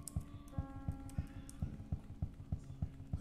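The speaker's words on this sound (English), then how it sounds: "She makes ridiculously loud footstep noises" Heavy, evenly spaced footsteps of a character in a horror video game thud steadily and loudly at a walking pace, layered over a low droning game soundscape.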